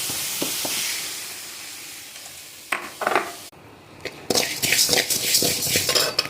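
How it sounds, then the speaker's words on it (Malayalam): Jackfruit mixture roasting in ghee in a pan, soft sizzling broken by scraping, clattering stirs of a spoon against the pan, growing busier and louder toward the end. "നമ്മൾ നെയ്യും കൂടി ഒഴിച്ച് വരട്ടുക."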